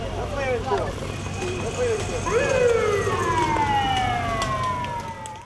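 A police patrol car siren escorting a junior cycling road race wails and sweeps in pitch, fairly close, over road noise with a voice talking over it.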